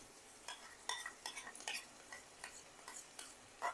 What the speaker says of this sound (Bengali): টক দইটাকে দিয়ে ভালো করে একবার কষিয়ে নেব